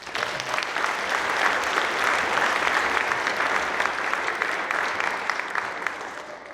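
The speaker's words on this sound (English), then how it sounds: "Let's give them another round of applause." An audience at a youth awards ceremony gives sustained applause, dense and steady clapping filling the hall throughout, with no voice over it.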